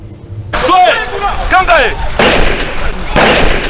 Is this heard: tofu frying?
no